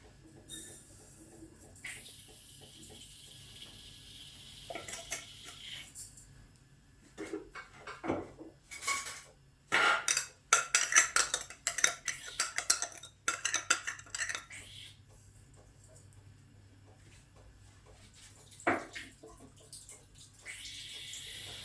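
Metal utensils clink and scrape against a pot while stirring sugar and carob, in irregular bursts, with a few louder clatters, close by and without talk.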